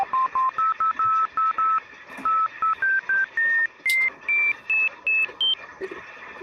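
FM synthesis tones with the operator frequency multiplier being changed, played in a voice chat: a run of short, clean beeps that step upward in pitch in a regular, evenly spaced rhythm, loud and close with no talking.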